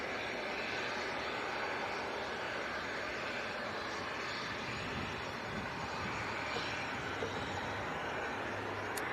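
An airliner at Leeds Bradford Airport gives off a steady, distant engine rumble that holds at an even, fairly faint level throughout, with no talking over it.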